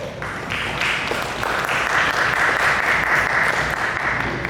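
An audience at a university technology incubator event applauds steadily and loudly for a presenter taking the stage, a dense, even wash of clapping with no pauses.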